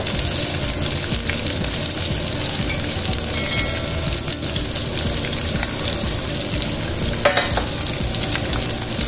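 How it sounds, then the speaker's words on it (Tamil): Chopped big onions sautéing in oil in a pan for a lady finger egg masala, a steady dense sizzle with stirring scrapes running throughout, close and fairly loud with no talk. "இதையும் போட்டு நல்லா எண்ணெயில் வதக்கி விடுவோம்."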